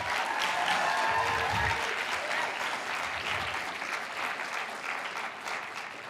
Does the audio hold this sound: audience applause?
yes